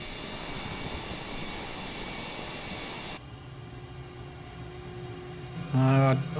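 A de Havilland Vampire jet in Microsoft Flight Simulator 2020 on the runway for takeoff, its engine a steady broadband roar that drops to a lower, tonal whine partway through, with a brief louder burst near the end.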